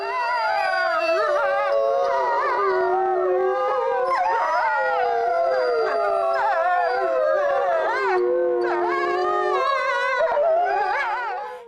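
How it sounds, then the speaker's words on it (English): Gray wolves howl together, several long wavering voices overlapping in a loud, sustained chorus with sliding pitches and occasional yips, with no talk over it. "their signature, howling"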